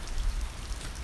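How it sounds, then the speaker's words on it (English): Rain falls outside in Las Vegas, a steady soft patter of drops forming a continuous wash with no voices. "right now it's raining"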